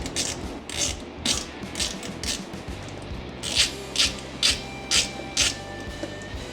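Ratchet wrench loosening clamp bolts on an aircraft APU intake flap actuator, a series of close rhythmic clicking strokes repeating evenly with brief pauses between them.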